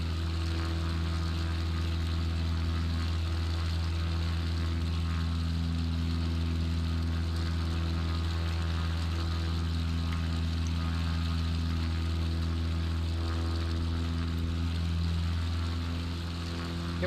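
Aircraft engine droning steadily during takeoff in Microsoft Flight Simulator 2020, a continuous low humming roar with no change in level, heard alone.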